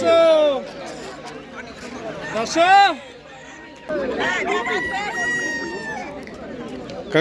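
Chickens squawk and a rooster crows amid a busy hen and duck market crowd, with people chattering throughout.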